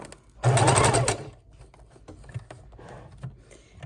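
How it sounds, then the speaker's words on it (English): A sewing machine stitches lace ruffles onto fabric, running in a loud, fast, steady burst for under a second, then falling to quiet handling and light clicks as the fabric is shifted. "just pushing it and stitching right on top of it and locking in those ruffles"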